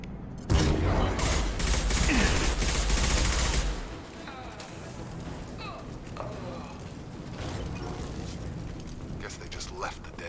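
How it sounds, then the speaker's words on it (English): Gunfire in the Mass Effect 2 video game on Omega, a dense fusillade of shots and explosions crowding the first four seconds, then lighter scattered shots under the game's ambient noise. "Blue Suns and Orcha shooting anything that moves."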